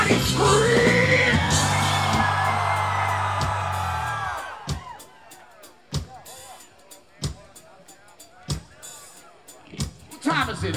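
A festival crowd at a live outdoor concert at Seattle Hempfest yells and whoops in a loud sustained roar for about four seconds, then fades into scattered shouts and sharp bangs.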